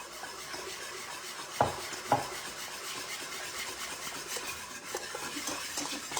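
Hand whisking of a stuffed-shell filling in a bowl, a steady quiet scraping and stirring rhythm with a couple of sharper knocks against the bowl, no talking.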